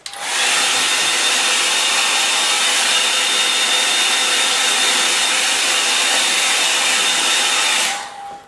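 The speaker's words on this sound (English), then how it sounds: "I'm going to just give it a bit of a blow with the hairdryer" A hairdryer blows steadily on a wet watercolour painting of river rocks, a loud continuous whirring hiss with a faint whine that runs unbroken for about eight seconds, then cuts off.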